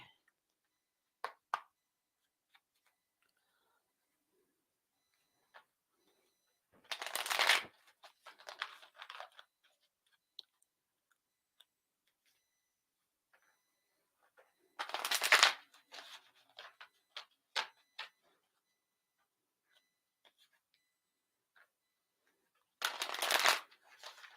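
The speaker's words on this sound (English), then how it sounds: "let's pull cards for you from Angie's deck." A deck of oracle cards is shuffled in three loud riffling bursts spaced several seconds apart, each followed by softer flicks and taps in an otherwise quiet room.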